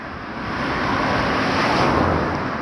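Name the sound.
diesel bus engine passing on road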